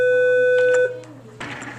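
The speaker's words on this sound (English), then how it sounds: "Your phone's ringing." A phone rings in a classroom with a steady loud electronic tone that stops abruptly partway through, followed by room noise and faint voices.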